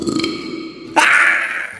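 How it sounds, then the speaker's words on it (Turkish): A loud, drawn-out burp from a cartoon character: a low croaky start, then a raspy, harsher blast that sustains for most of a second before trailing off. "Satılmış korkma geğirdim ya."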